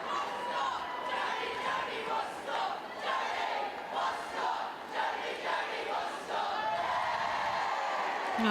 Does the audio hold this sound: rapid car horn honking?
no